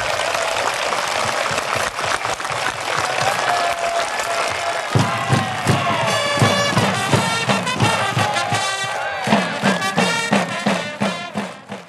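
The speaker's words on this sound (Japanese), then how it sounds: "ファンから惜しみない拍手や声援が送られました" Over a thousand sports fans applaud and cheer at a farewell event for a retiring player, a continuous wash of clapping with raised voices that swells in rhythmic bursts toward the end.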